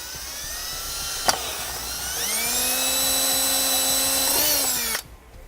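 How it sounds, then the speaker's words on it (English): A 3/4 inch hole saw bit drills through a panel during a fuse bypass install on a 2007 Honda, with a loud, steady high-pitched whine that spins up, holds for a few seconds, then cuts off abruptly. "we're going to take a 3/4 inch hole saw bit."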